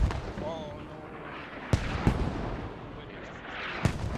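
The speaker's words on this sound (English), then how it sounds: "Mortar's coming down to help SRG's beleaguered northern squad here." Mortar rounds landing in a Squad match on the Chora map, several sharp distant booms spaced a second or two apart over faint battlefield noise and a voice talking.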